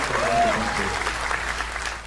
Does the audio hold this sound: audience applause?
yes